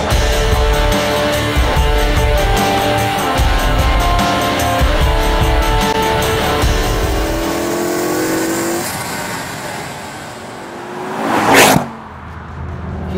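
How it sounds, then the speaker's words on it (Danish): A Ford Focus RS500 engine drones loud and close, holding steady revs with rising tonal sweeps. Toward the end it drops off, and a sharp whooshing burst follows before a quieter tail. "Den her bil, den behøver ikke nogen præsentation, fordi I ved allerede godt, at det her, det er den nye Focus RS 500"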